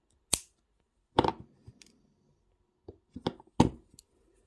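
Wire cutters snip through craft wire for a Valentine wire-wrap piece: several sharp, close metallic clicks spaced irregularly, with a few softer handling taps in between.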